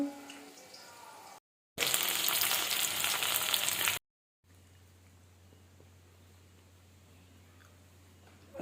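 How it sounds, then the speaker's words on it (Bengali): Chicken pakoras frying in hot oil in a home kitchen give a dense, steady sizzle, broken by short gaps, followed by a quieter bubbling fry with a low hum beneath it. "আমি দেখো চিকেন পকোড়া বানিয়ে নিচ্ছি"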